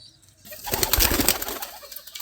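Pigeons coo close by, soft throaty calls rising after a quiet start into a fuller, layered stretch of cooing and rustling that stays busy to the end.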